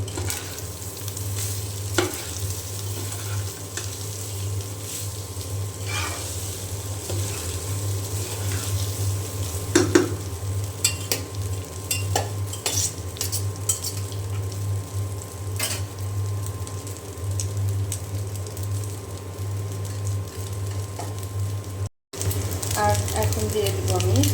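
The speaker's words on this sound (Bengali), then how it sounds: "এখন আমি এই যে ভাত দিয়ে দিলাম আর বেঁচে যাওয়া ভাত নষ্ট না করে এভাবে ভেজে খাবেন" Leftover rice fries in a pan with green beans, giving a steady, close sizzle with occasional stirring scrapes that carries on throughout.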